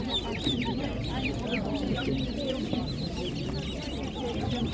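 Chickens and chicks cluck and cheep densely and continuously at a Ukrainian animal market, the overlapping calls close and steady with faint crowd murmur underneath.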